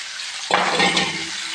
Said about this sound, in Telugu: ఇవన్నీ మనం మంచిగా ఫ్రై చేసుకోవాలి